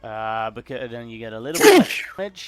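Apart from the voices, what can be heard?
sneeze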